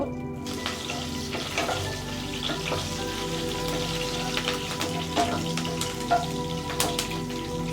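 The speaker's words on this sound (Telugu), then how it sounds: "ఈ నూనె బాగా కాగాక ఇందులోకే ఒక హాఫ్ టీ స్పూన్ జీలకర్ర ఒక నాలుగు పచ్చిమిర్చి చీలికలు" Cumin seeds and slit green chillies crackling in hot oil in a kadai for potato-tomato curry, a dense close sizzle with scattered pops throughout and no talking.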